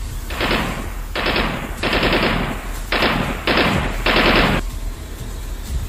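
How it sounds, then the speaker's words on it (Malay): Enemy machine gun fire in a dark forest, heard as six sustained bursts of rapid automatic fire, each roughly half a second long, loud and close, separated by short gaps. "Jelas kedengaran bunyi tembakan machine gun musuh."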